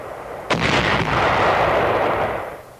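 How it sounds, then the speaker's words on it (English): Anti-personnel shoe mines set off four at a time in 1945 mine clearance give one sudden loud blast that rolls into a long rumbling roar and fades over about two seconds, with no talking. "These anti-personnel shoe mines are exploded four at a time."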